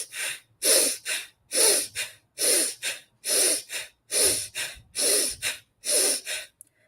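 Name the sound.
Bhastrika forceful breathing exercise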